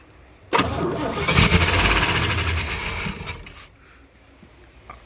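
A 1959 Chevy Apache truck engine that sat for 25 years cranks and catches, roaring loud and close for about three seconds before dropping back to a rough, quieter idle.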